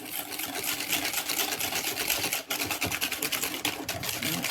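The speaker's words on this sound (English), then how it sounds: "We're going to whisk all that together until we are well combined" A steady, fast, close whisking of lime zest and vanilla paste in a bowl for a kiwi lime loaf cake, brisk and continuous all the way through without a pause, with no talking.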